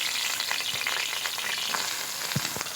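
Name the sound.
soaked soybean chunks frying in oil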